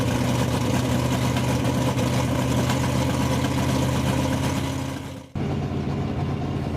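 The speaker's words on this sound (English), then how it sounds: "Some of the drivers are warming up their engines." Race car engines, including altered cars, warm up before runs at El Mirage dry lake: a loud, steady idling rumble with a cut-out near the end, then the running engines return at a slightly lower level.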